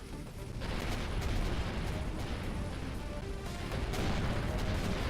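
Spaceship turret weapons fire in the Avorion game, a dense, continuous barrage of crackling bursts and rumbling impacts that swells after a brief quieter start and stays loud and busy to the end.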